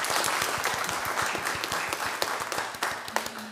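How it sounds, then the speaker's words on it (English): A church congregation applauds the worship musicians, a full burst of clapping with a loose pulsing rhythm that gradually thins out, with a faint tone near the end. "We clap for them because we give thanks to God for how they are leading us in worship"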